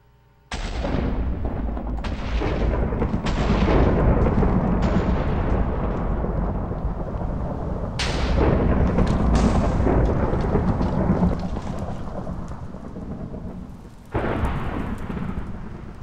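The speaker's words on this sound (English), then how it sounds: "some lightning bolts would have hit on the roof since my spell circle" Heavy rumbling thunder from lightning called down by a ritual spell circle in a Minecraft witchery magic mod, several booming cracks rolling in succession over about fifteen seconds, loud and close, with rain-like hiss between strikes and no talk.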